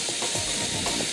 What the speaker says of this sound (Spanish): Yo voy a poner aquí a dorar la cebolla junto con el champiñón.